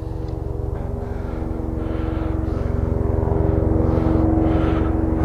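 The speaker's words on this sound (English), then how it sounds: "I'm just waiting for a nice noisy helicopter to pass" A helicopter passes overhead, its rapid rotor chop steady and loud, growing a little stronger toward the end, with no voices.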